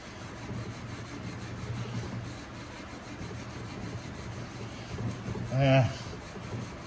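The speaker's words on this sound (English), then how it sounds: "Steel wool, not sure, it's probably 4/0, maybe 3/0, I don't know. Just see what it does." Steel wool, roughly grade 3/0 or 4/0, is rubbed back and forth on a wooden surface, making a soft, steady scratchy scrubbing close by. A brief hum rises near the end.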